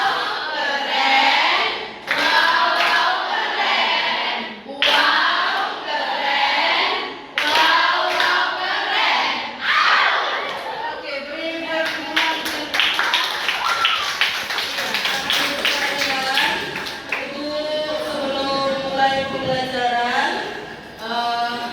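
A school class performs the rhythmic "tepuk wow" clapping chant, with many hands clapping in patterned bursts while young voices chant along loudly, the pattern repeating over about twenty seconds in a room.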